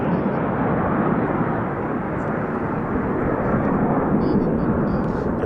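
A Frecce Tricolori soloist jet roars past during an air display, a loud, continuous broadband rush of engine noise that stays full and close without a break.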